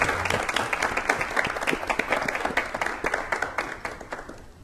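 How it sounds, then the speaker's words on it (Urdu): An indoor audience at a space technology careers event gives loud, sustained applause for the country's scientists, many hands clapping densely for several seconds before it begins to thin out. "میں چاہوں گا ہمارے دیش کے ہونہار ویگیانکوں کے لیے ایک بار زوردار تالیاں ہو جائیں"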